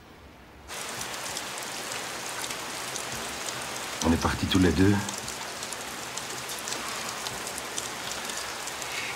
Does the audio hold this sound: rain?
yes